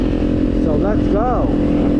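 A Kawasaki motorcycle fitted with a Leo Vince exhaust rides along back roads, its engine a steady, loud drone while a voice talks over it.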